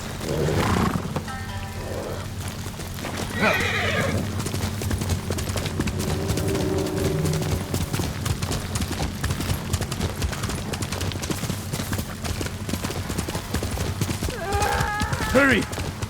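Horse hooves clip-clop in a steady galloping rhythm in the game Ghost of Tsushima, fairly close and continuous, with a neigh near the start and voices talking over the hoofbeats.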